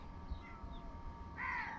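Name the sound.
crows cawing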